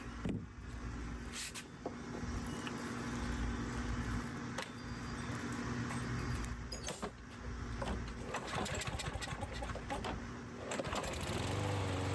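A cheap used lawn mower's small gas engine runs steadily after being started, a loud continuous buzzing drone close by with brief dips and rattles, ending in a rising rev.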